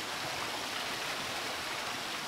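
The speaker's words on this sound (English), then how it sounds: "Oh, we got a beautiful waterfall." A waterfall in the stealth video game Thief, played in a fan mission, gives a steady, even rush of falling water with no breaks and no voices.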